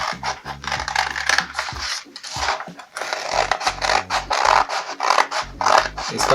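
Scissors cutting through fabric for a medium-size round-neck T-shirt pattern, a close, continuous rasping and snipping that comes in uneven strokes with short pauses between cuts, with no talking.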